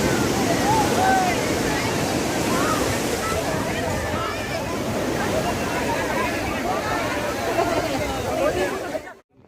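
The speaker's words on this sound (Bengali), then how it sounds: "পুরী মানেই হচ্ছে জগন্নাথ দেবের দর্শন এবং পুরীর এই অপূর্ব ঢেউয়ের আনন্দ নেওয়া" Sea waves roll in at Puri beach at night, a continuous loud roar of surf that stays steady throughout before cutting off at the very end.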